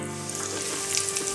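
Hot oil sizzling steadily in a frying pan as a Russian-style fillet patty goes in, a close, continuous crackle with no voices.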